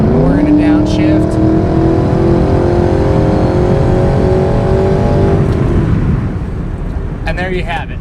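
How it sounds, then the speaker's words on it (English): A 2003 Ford Mustang Mach 1 with an aftermarket Borla S-type catback exhaust, downshifted out of overdrive, revs hard in a loud, rising V8 roar that holds for several seconds and then drops away as the throttle lifts. "this one has aftermarket Borla S-type exhaust, so we're going to kick it out of overdrive."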